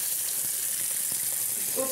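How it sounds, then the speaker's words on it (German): Duck breast sizzling in a frying pan, a steady hiss of hot fat running throughout, fairly loud and close with faint pops, no talk. "Ich brutzel zu laut, bist du aufgewacht?"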